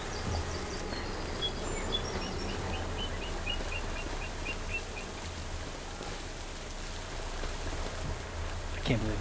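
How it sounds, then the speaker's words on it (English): Steady rain falls over a frontier farm, a soft, even hiss running throughout with faint bird or insect chirps scattered in the background and a brief knock near the end. "can't believe it's still raining."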